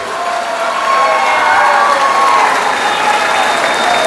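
Loud, sustained applause from a large crowd at a political rally in Vasai, Palghar, with scattered cheers and shouts rising through a dense, steady wash of clapping.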